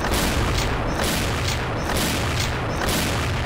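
Explosions and gunfire in the shooter video game XSHOT, a dense, continuous barrage of booming blasts and rapid shots pounding loudly throughout with no talk over it.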